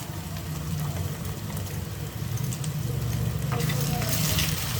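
Ginger garlic paste and chopped green chillies sizzling in oil in a pan for prawn biryani, a steady crackling fry with occasional stirring scrapes, close and continuous.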